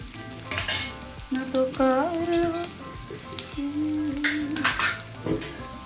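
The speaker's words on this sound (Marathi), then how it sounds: "ती डाळ आता मिक्स करणार आहे मी" Cooked dal is stirred into a pan for khara pongal, with a spoon scraping and clattering over a light sizzle. A voice sounds intermittently in the background.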